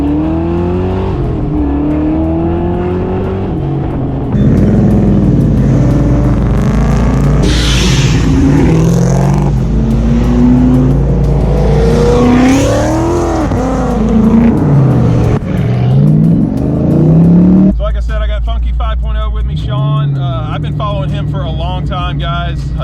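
Mustang cars rev and drive in a cruise at the Ford Takeover show, with loud, close engine roars that rise and fall continuously while people talk over the noise.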